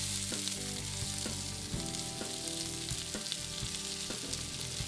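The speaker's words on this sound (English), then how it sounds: "I'm going to cook those in about 1/4 cup of extra virgin olive oil over medium-high heat." Chopped leeks frying in about a quarter cup of extra virgin olive oil over medium-high heat, a steady dense sizzle with occasional crackles and stirring clatter, close and continuous with no talking.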